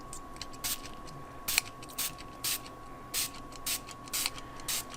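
Short bursts of a water spray bottle misting over watercolor pencil work, about nine quick sprays in an irregular rhythm, close by over a steady faint hum.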